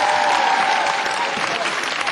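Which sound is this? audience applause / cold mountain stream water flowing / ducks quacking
audience applause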